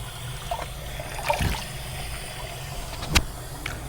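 Cold water running from a tap during a wet shave, a soft, steady trickle with a couple of brief louder splashes, close and fairly quiet.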